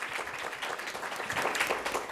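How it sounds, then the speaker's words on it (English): An audience applauds panelists after a discussion of Pritzker's first legislative session, producing a soft, distant, continuous patter of clapping that stays fairly faint for about two seconds. "Let's give our panelists a round of applause"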